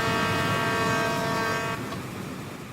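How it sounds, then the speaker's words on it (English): A train in the RO-Scale video game, a remodeled Intercity 125, runs at high speed with a loud, steady tonal hum that cuts out partway through, leaving a quieter rolling rumble. "the rail car sounds are getting even louder"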